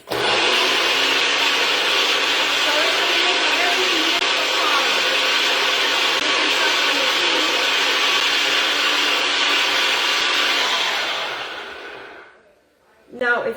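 A blender whirling a blackberry honey vinaigrette, a loud continuous motor roar with a dense buzzing rush for about eleven seconds, then winding down abruptly before a brief restart.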